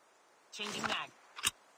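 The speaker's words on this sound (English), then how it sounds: "Changing mag." A quick gun magazine swap in a Call of Duty Mobile battle royale match: a clattering metallic slide and rattle lasting about half a second, then a sharp click as the magazine seats, close and fairly quiet.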